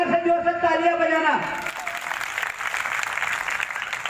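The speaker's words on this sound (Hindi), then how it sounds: "जिसको अपने बच्चे से प्यार है जरा प्यार से जोर से तालियां बजाना" Devotees clap at a religious gathering honoring Mahakal, a broad hiss of applause rising after a voice finishes chanting, then a steady moderate wash of clapping continues to the end.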